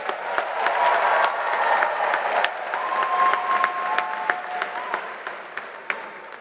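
Graduates at a university commencement ceremony receive a sustained round of applause from the audience, steady and dense throughout, with a few sharper claps and cheers poking out and tapering slightly near the end.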